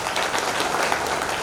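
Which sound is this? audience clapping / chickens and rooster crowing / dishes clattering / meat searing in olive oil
audience clapping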